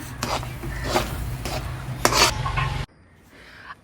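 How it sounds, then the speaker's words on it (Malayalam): A wooden spoon scrapes and rubs through thick onion lehyam in a cooking pan, several rasping strokes repeating close up, then it stops abruptly into near quiet. "ഇനി അതൊന്ന് മിക്സ് ചെയ്ത് കൊടുക്കാം നമ്മുടെ ഉള്ളിലേക്കും"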